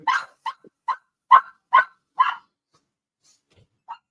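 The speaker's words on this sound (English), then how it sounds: "Dang dog." A dog barks in a series of six sharp, fairly close barks at an uneven pace, followed by a pause and one softer final bark, with no talking over them.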